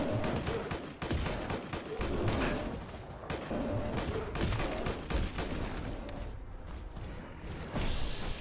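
Rapid gunfire in Fallout 4's Far Harbor, aimed at a tough bear on the island, with dense, loud bursts of shots crackling nearly nonstop through the whole stretch alongside clanking weapon mechanics.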